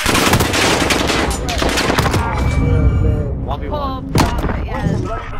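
Loud, rapid automatic gunfire from a multiplayer shooter video game round fills the whole stretch in dense, continuous bursts with sharp individual shots, while players talk over it.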